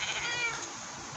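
A cat meows in Minecraft, a single drawn-out, fairly quiet game-sound mew with no one speaking over it.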